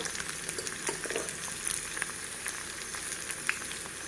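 Onions sizzle and fry in a pan for mushroom curry, a steady crackling hiss with small pops and occasional stirring scrapes.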